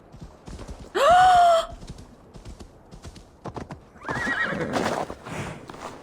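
A horse whinnies loudly once in Assassin's Creed Valhalla, then after a pause hooves clatter in a quick galloping rhythm, with faint clicking in the background.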